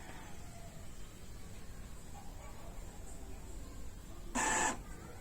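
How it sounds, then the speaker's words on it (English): An Epson printer running a manual nozzle head cleaning gives off a low, constant mechanical hum, and a brief louder whirring burst comes near the end. "as the manual cleaning of the nozzle head continues, you're gonna continuously hear this sound"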